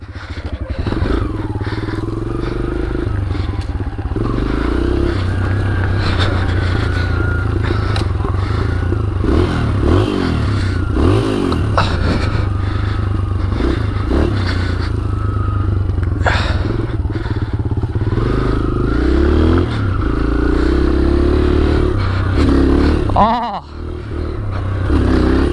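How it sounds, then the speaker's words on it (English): A stunt motorcycle stuck in snow is revved hard again and again for wheelies to blow the snow out, its engine loud and close, surging and bogging, with clattering and scraping knocks between the bursts. "I'm gonna do some wheelies to blow the snow out."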